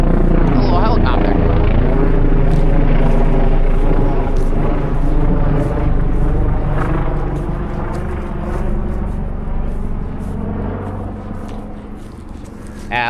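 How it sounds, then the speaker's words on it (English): A small helicopter passes overhead outdoors, its loud, steady rotor chop and engine drone filling the air and fading slightly toward the end, while a person speaks over it. "little helicopter."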